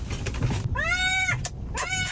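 A distressed cat meows and cries repeatedly inside a car, with two long drawn-out wails and a shorter cry, loud and close over a low rumble of road noise.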